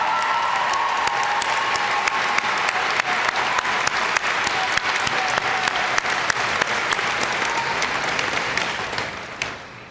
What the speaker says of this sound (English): I would ask our graduating students to please give a standing ovation for the faculty and staff